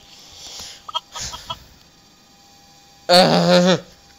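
A chicken in the block-building game Mini World gives a few faint clucks, then a single loud squawking cluck near the end, over a steady low electrical hum.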